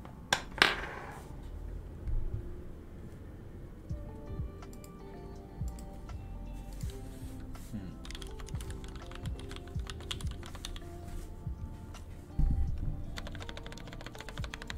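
Keystrokes on a Daisy 40 computer keyboard tap out in a steady, uneven patter for the whole stretch, fairly close and clear, with a sharper burst near the start and another toward the end.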